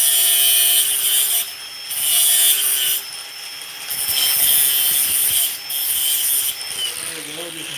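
A freshly cut steel bar is deburred by hand, a scraping, rasping rub in several bursts separated by brief pauses, close and fairly loud, with a faint voice at the end.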